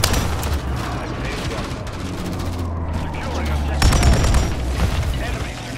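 Rapid bursts of automatic gunfire and explosions crackle in Call of Duty: Modern Warfare 3 multiplayer, dense and continuous, with in-game radio voices calling out objectives over the shooting.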